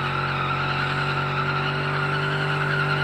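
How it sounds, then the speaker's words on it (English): A car in BeamNG spins donuts in second gear with its tires smoking, giving a steady, loud tire squeal over a constant engine drone that holds without a break. "Donuts! Freaking smoked them tires"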